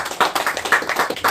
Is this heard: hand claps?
yes